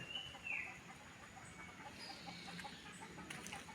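Native village hens with chicks cluck softly at a distance near a deep well in rural Konkan, amid faint outdoor background noise, with a few short, scattered calls rather than a steady stream.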